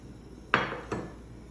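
Two distinct clinks of a serving spoon against a pan while sauce is mixed, the first sharper and louder, the second softer a moment later, with no talk.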